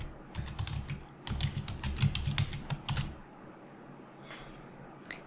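Quick bursts of typing on a computer keyboard, with dense clicking keystrokes for about three seconds, then a quieter pause and a few faint taps.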